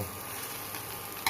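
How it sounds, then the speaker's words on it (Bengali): Duck eggs sizzle gently in a frying pan, a low continuous frying hiss ending with a brief scrape or clink of a spatula, close and quiet, without speech. "আজকে রাতের খাবার ডিম ভাজা শুধু ডিম ভাজা"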